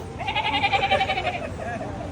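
A man mimics a goat, giving a fairly loud, trembling bleat that wavers for just over a second, then a short weaker second bleat, with background noise underneath.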